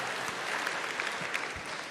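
Comedy club audience applauding a stand-up comedian, a steady dense wash of clapping that holds at an even, fairly loud level throughout, with no speech over it.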